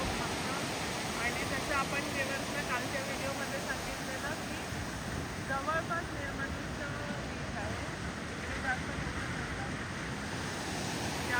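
Steady broadband rush of sea surf rolling in continuously at Kunkeshwar, with wind noise on the microphone and a faint voice in the background.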